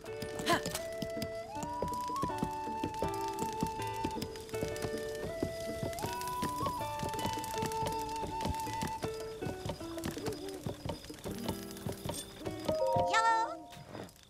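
A horse at a stable in Zelda: Breath of the Wild clip-clops and snorts amid layered game music and chimes, with a person talking over it.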